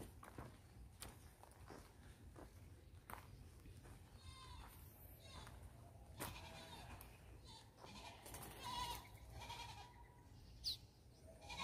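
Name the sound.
goats bleating beyond the fence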